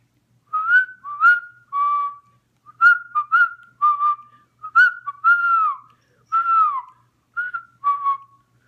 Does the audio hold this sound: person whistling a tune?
yes